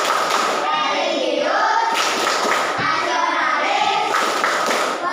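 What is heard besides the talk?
class clapping chant "tepuk PPK"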